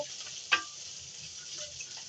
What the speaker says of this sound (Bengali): এই যে আমার মরিচ আর পেঁয়াজ রসুন ভাজা হয়ে গেছে